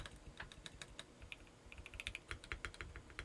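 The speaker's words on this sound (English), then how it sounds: "not too many keyboards sound like this stock." Typing on a stock CIY GAS67 mechanical keyboard, a quick uneven run of crisp keystrokes heard close and alone, with deeper thocky bottom-out clacks under the sharper clicks.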